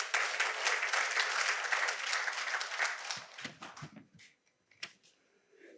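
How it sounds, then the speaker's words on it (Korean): Lecture-hall audience applauding a speaker: a dense, steady round of clapping for about three seconds, then thinning into a few scattered claps and quiet stretches. "박수 한번 쳐주십시오"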